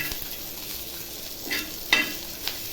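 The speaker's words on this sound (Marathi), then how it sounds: "आता लसूण टाकते लसूण टाकल्यावर बघा जिरं पण टाकते आणि छान ह्याला असं पुन्हा भाजून घेते" Garlic and cumin dry-roast in a pan for a village-style tomato and green chili kharda, giving a soft, low sizzle with a few sharp scraping stirs near the end.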